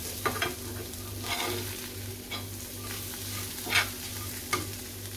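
Homemade Koli masala being stirred into a pan, with soft scraping strokes at a steady rhythm over a faint low hum and quiet sizzle, close and moderately loud, no talking.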